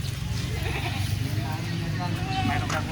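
Goats on a small farm bleat amid steady outdoor background noise, with a few calls rising over a busy, continuous ambience and some human voices mixed in.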